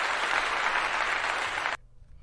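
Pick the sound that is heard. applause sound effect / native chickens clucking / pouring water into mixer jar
applause sound effect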